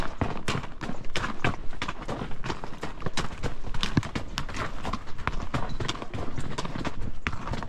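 Horses walk over a rocky, sand-washed trail near the Loma Alta trailhead, hooves clip-clopping in a steady, busy rhythm close by, with scattered stones knocking throughout.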